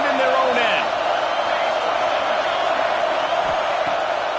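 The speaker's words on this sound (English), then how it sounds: "The roar of the crowd trying to fuel this defense to keep them pinned in their own end." Steady, dense stadium crowd roar at an American football game, sustained and loud throughout, with a broad wash of voices and no clear breaks.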